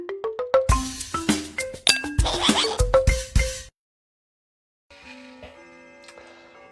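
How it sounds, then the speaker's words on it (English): A house clock chimes the hour in a rapid run of bright, ringing strikes lasting a few seconds, then silence, followed by fainter, softer tones that linger. "chimes, it means it's cocktail time, which goes off every 15 minutes in our house"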